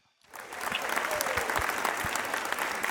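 Applause from an audience at a mental health interview event swells quickly from silence into a steady, full wash of clapping with a few louder individual claps up close.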